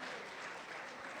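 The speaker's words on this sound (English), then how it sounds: "Can we give her a round of applause?" Audience applause during a presentation event, a dense, even wash of many hands clapping at a distance, fairly faint and unbroken, with no talking.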